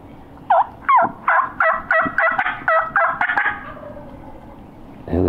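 A wild turkey gobbles in a rapid series of about ten rattling calls, fairly close and loud, then quiet before a brief noise at the end.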